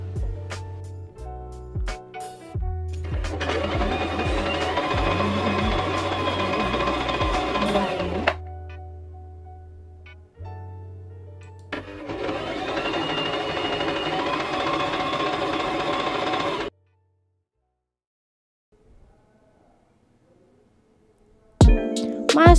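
A Brother JK17B sewing machine runs decorative stitches in two long, even mechanical whirring bursts of about five seconds each, separated by a pause with softer handling sounds and followed by near silence.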